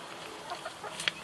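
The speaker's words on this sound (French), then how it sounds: "Regardez comment elles adorent le pain, des beaux petites poules." Hens pecking at bread give off a few soft, short clucks and chirps, close by over faint background hiss.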